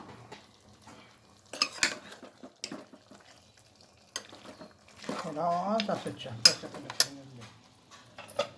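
A spoon scrapes and clinks around a cooking pot as jackfruit bhaji is mixed, in scattered strokes with a soft sizzle, and a person talks briefly partway through.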